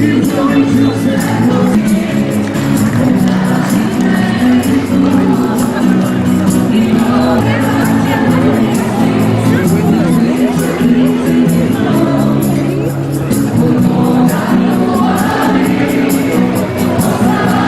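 A large wedding celebration crowd fills the palace courtyard with a continuous, loud hubbub of voices, occasional shouts and cheers, and music running steadily beneath throughout.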